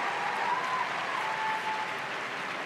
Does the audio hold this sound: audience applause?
yes